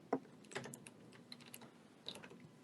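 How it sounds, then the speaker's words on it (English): Keys clatter on a computer keyboard in scattered quick bursts of clicks, close and fairly soft, with a couple of louder taps. "Yeah, I can hear you typing."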